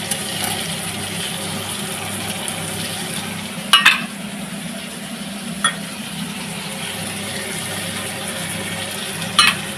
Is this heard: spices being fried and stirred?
yes